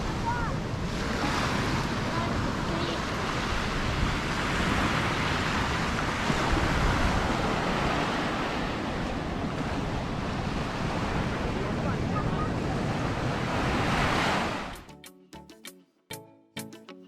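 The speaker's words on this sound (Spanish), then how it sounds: "El oleaje es mucho más tranquilo" Calm ocean waves wash steadily onto La Piscina beach in Tayrona Park, Colombia, a continuous broad surf roar with some wind on the microphone, cutting off abruptly near the end into a few faint scattered knocks.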